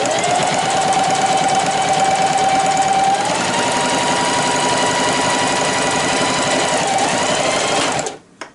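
A Singer 4423 sewing machine stitches steadily at close range, a loud continuous mechanical whir that shifts pitch slightly partway through, then winds down and stops near the end.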